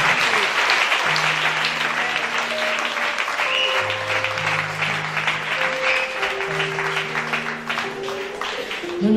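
A church congregation claps loudly and continuously in sustained applause, with a sung or sustained tonal line running underneath throughout.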